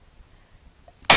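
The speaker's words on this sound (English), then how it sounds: "Oh, I need to sneeze." A person gives a single sudden, loud, close sneeze that bursts out of near silence right at the end.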